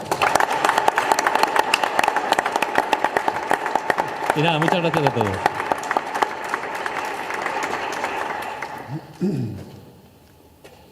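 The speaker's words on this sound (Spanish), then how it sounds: "un fuerte aplauso para él" Audience applause at a novel presentation in Pelayos de la Presa; steady dense clapping fills most of the stretch and tapers at the end, with a voice speaking over it.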